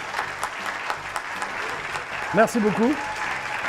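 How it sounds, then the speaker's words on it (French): A television studio audience claps on cue, a broad wash of applause under and around a voice briefly speaking a short thank-you. "Applaudissements, s'il vous plaît"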